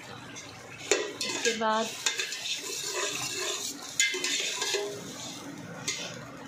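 Aloo biryani ingredients are stirred in a metal pot, with clattering spoon knocks and scraping against the pot over a soft sizzle, while someone speaks briefly.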